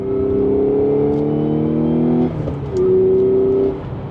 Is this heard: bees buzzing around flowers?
no